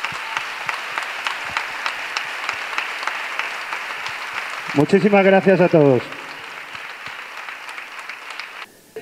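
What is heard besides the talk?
loud applause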